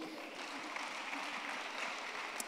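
A church congregation applauds during a Kinyarwanda sermon, a faint, distant and continuous patter of many hands clapping, steady from start to finish.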